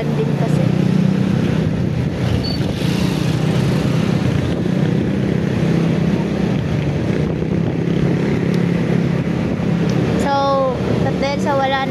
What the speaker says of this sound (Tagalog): yung hangin yung naririnig kasi malakas talaga yung hangin